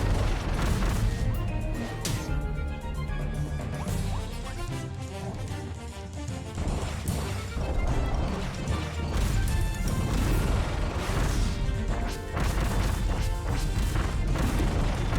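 Bombs repeatedly thrown and exploding in the Kirby and the Forgotten Land demo, a dense, continuous barrage of loud crashing booms and pops layered over game music with no pauses.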